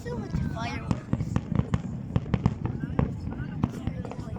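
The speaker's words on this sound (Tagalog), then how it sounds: "Why so much fireworks?" Fireworks display at a corniche: repeated sharp pops and booms at irregular intervals, moderately distant, with people talking nearby over the bangs.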